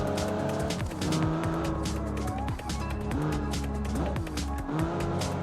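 A custom race car in a driving video game roars at constant high revs with repeated tire squeals and skids, steady and loud throughout.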